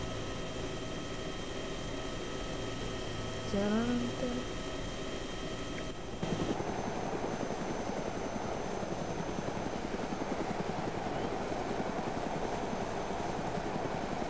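A helicopter in the video game DayZ sets down on a helipad, its steady rotor and engine drone filling the whole stretch, with a brief tonal chirp midway and the drone shifting and swelling as it lands.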